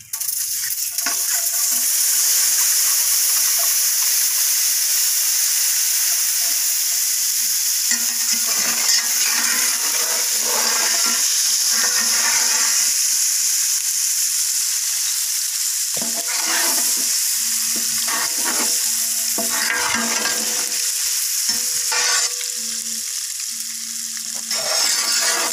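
Eggs frying and being stirred in a pan for a spicy egg pepper fry, a loud steady sizzle broken by repeated scraping stirs, close up and continuous with no talking.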